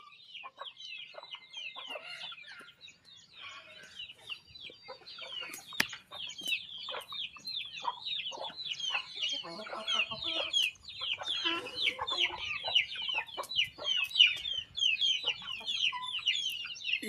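A flock of chickens clucks and chatters while pecking at grain feed mixed with bran, with scattered sharp pecking clicks under a constant busy murmur, fairly quiet and close throughout.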